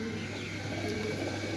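Young pigeons, slate-coloured birds kept for sale, give soft, low cooing notes, faint and close-up, over a steady background hum, with no talk.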